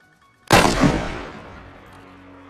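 A single loud gunshot rings out in a video game, sharp onset followed by a long decaying echo and rumble over about two seconds, with no talk.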